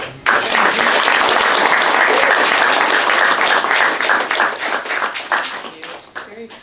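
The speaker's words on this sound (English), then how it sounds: "Very kind of you to clap" An audience at a poetry show bursts into sustained applause, dense clapping that holds strong before gradually thinning out and fading.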